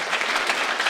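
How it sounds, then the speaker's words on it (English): Dense, steady applause from an audience at a lifeboat debate event, a continuous wash of many hands clapping together at moderate loudness with no voices over it. "We'll have a round of applause for"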